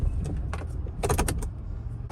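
A gear shifter on a 2002 Toyota Tacoma pickup clicks and clunks through a few quick shifts, short mechanical knocks close by with a low background hum and no talking.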